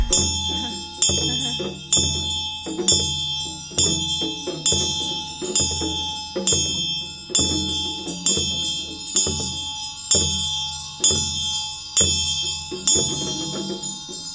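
Ritual hand bell rung steadily during a Chöd practice session, about a dozen bright ringing strikes at an even one-per-second rhythm, each tone sustaining and decaying into the next, close and clear with no talk over it.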